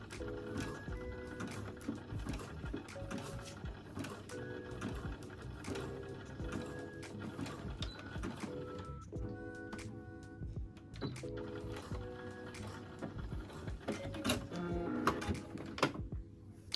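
A sewing machine stitches swimwear elastic with a continuous, fairly quiet rattling whir and clicky mechanical ticks throughout, heard close up with no voices.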